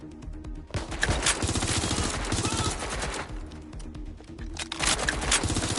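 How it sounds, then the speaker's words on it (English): Rapid automatic gunfire from a firefight in Watch Dogs: Legion, bursts of close, loud shots running almost nonstop with brief pauses between volleys. "Shots fired!"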